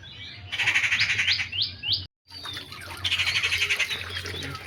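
Birds in morning trees chirp and call in quick repeated phrases, a rapid series of rising notes, then a short silent gap and further chattering calls, fairly close over a low background hum.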